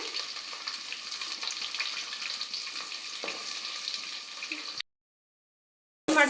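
Onions with kasturi methi and curry leaves fry in a pan for cauliflower masala, a close, steady crackling sizzle that drops to total silence for about a second and then returns briefly at the end.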